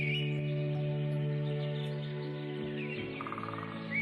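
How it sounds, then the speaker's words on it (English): Soft, rapid woodpecker tapping near the end, a quick run of light knocks over chirping birds and a steady low hum. "See if you can hear when the woodpecker pecks wood"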